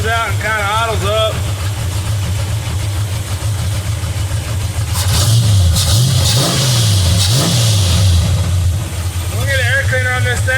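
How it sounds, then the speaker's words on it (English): A car engine fitted with a Holley Street HP carburetor idles steadily with a low rumble, its pitch rising and falling briefly as it is adjusted, while someone talks over it. "screw it out until the engine smooths out and kind of idles up."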